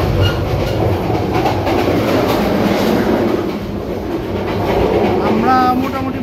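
Steady rumble and rhythmic clickety-clack of the Sonar Bangla Express on the Chittagong–Dhaka line near Sitakunda, heard from inside an AC cabin, continuous and fairly loud, with a faint voice in the background.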